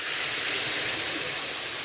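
Milk is poured into a browned roux of flour for white sauce, giving a loud, steady hiss that runs unbroken from start to finish.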